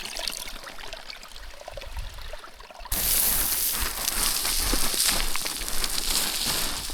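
Clean water running in a stream in the Yukon subarctic, a soft trickle at first that turns into a loud, close, continuous rushing flow midway.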